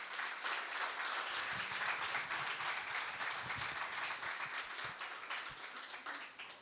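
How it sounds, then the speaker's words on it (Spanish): A crowd at an academic forum on family and education gives a steady round of applause that holds for several seconds and then slowly eases off, heard at a modest distance with no talking over it. "Recibimos con un fuerte aplauso a Carmen Martínez Viciana."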